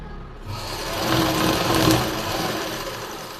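A sewing machine stitches down the center of a blouse lining, its steady motor hum rising and holding for a few seconds, close and moderately loud with no talking.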